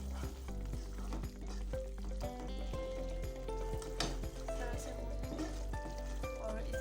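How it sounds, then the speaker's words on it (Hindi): Tomato masala sizzles softly in a pan as it is stirred and fried, a faint steady crackle with spoon strokes over it while background music plays. "अब मैं क्या करूँगी, इसको अच्छी तरह से चलाऊँगी और थोड़ा सा भूनूँगी भी।"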